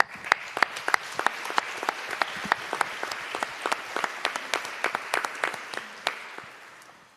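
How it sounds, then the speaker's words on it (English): A conference audience applauds, with many distinct claps standing out over a moderate crowd patter, then fading out. "So let's give them, again, a round of applause."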